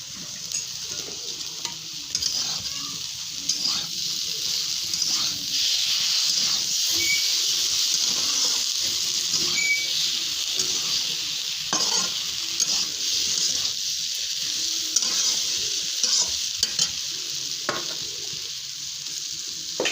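Ginger, green chili and cumin paste frying with cabbage in a pan, giving a loud continuous close sizzle and hiss for the whole stretch, with faint stirring scrapes and no talking.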